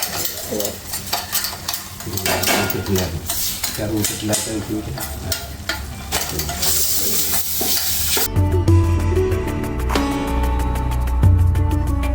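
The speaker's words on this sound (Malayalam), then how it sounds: "മഞ്ഞൾപ്പൊടി ഇട്ടു നെയ്യിലിട്ട് വഴറ്റാണ്." Turmeric powder is sautéed in ghee in a pan, giving close stirring scrapes and sizzling that give way to a steadier hum and clinks of a utensil against the pan.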